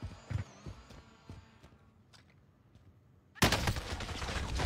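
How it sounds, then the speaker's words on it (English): Precision airstrike in a first-person shooter video game: scattered gunfire pops early on, then a sudden loud explosive blast lands and roars on as a dense, sustained rumble of detonations. "friendly precision airstrike inbound"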